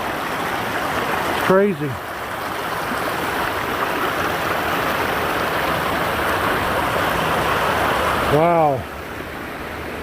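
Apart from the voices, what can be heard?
creek flowing water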